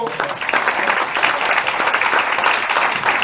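Audience applause, a close, fairly loud and even spread of many hands clapping continuously throughout without speech.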